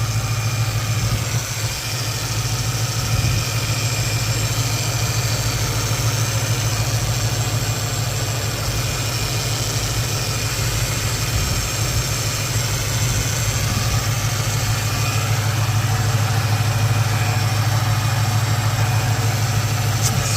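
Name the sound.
Infiniti M45 VK45DE engine idling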